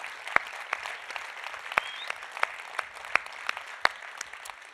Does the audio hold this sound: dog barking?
no